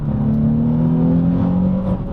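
A Nissan 350Z's 3.5-liter engine revs loud and close under spirited driving, a steady deep drone that climbs slowly in pitch for about two seconds.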